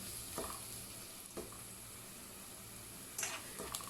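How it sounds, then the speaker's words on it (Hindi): Garlic fries in a pan for mutton aloo keema, a quiet, even sizzle with a few brief scrapes of stirring. "लहसुन, इसे अच्छे तरीके से भून लूँगी ताकि लहसुन की स्मेल ख़त्म हो जाए"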